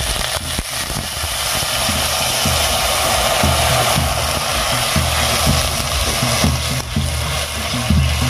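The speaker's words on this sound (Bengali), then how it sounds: "এবারে মশলা বাটা জল দিয়ে কষিয়ে নেব।" A spice paste of ground cumin, ginger and onion fries with added water in a pan, giving a loud, steady, close sizzle that keeps an even hiss the whole time, with no talk.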